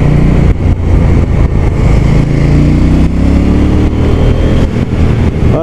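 A KTM 790 Duke twin-cylinder motorcycle pulling hard in traffic, its engine roaring loud and close with a rising pitch through the acceleration and brief dips between gears.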